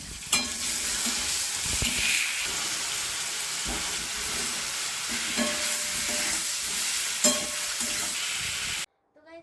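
Food frying in a pan on a home stove, with a continuous hiss and sizzle broken by scraping stirs and a few sharp knocks of the utensil, ending abruptly in near silence.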